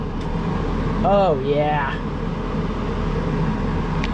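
A newly replaced heater blower motor in an AMX car runs with a steady, even whoosh of air, and a man's short exclamation rises briefly over the blowing.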